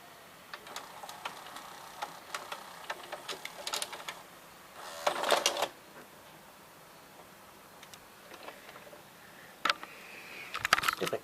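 A Samsung VR-3711 VCR ejects a tape with a run of small mechanical ticks and clicks, a short whirring gear burst in the middle, and a few sharper clunks near the end, all fairly quiet and close.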